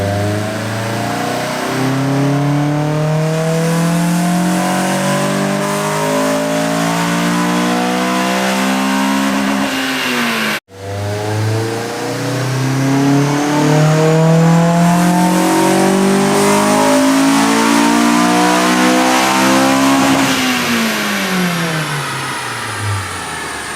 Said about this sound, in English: So we're on the dyno. We're going to bring it up to temperature, do 2 runs with this intake